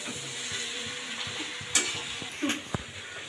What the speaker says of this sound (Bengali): এবার আবারও খুব ভালোভাবে আমি এটাকে মিশিয়ে নেব